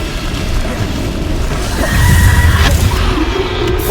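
Bombarda explosive spell cast during a Hogwarts Legacy duel, a dull rumbling boom that swells midway through amid continuous loud game noise, with no talking.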